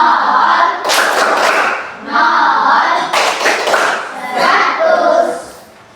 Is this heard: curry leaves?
no